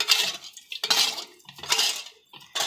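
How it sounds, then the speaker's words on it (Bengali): Momo ingredients and sugar are mixed with a metal utensil in a bowl: close, irregular clinks and scrapes against the bowl come in short bursts separated by brief pauses. "সেটা ভালো করে মিক্স করে দেব।"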